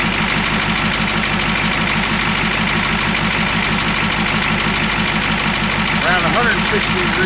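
A 1969 Ford F-250 engine runs at idle with a steady, rapid rhythmic knock throughout, loud and close, with a voice speaking briefly near the end.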